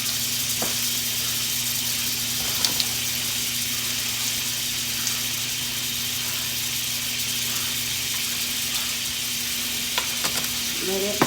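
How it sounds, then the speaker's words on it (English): A tablespoon of butter melts in a pan, giving a soft, steady sizzle and crackle that holds at an even level throughout, over a low constant hum, with occasional small clicks. "I'm going to add a tablespoon of butter to my pan here."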